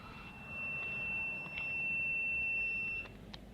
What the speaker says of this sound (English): and that the alarm has gone off.